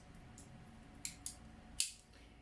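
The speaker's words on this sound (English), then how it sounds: "I'm not going to use the blade, but these little scissors that are in here." Small scissors on a Leatherman multitool snip through hair, three or four quiet, crisp cuts in a close, otherwise hushed room.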